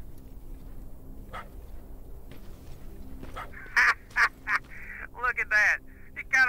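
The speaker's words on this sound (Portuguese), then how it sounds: "eu tô ouvindo latido" A dog barks in the video game Terminator Resistance, a string of sharp, fairly loud yaps in quick bursts over a low game ambience, with a voice talking.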